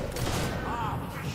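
Gunfire in the fantasy video game Fable 3, a continuous dense fusillade of shots and thuds under game ambience, with a brief tonal effect in the middle.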